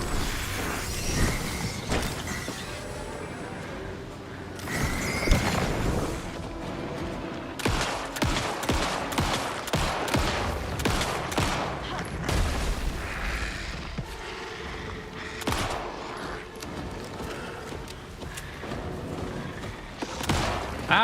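Gunfire in the survival horror game Alan Wake 2: dense, repeated shots and booming impacts across a continuous tense soundscape, loud and busy throughout.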